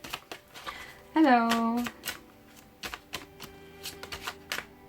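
Tarot cards shuffled on a table, a series of soft sharp riffling clicks and taps spread throughout, with a voice speaking briefly in French over them.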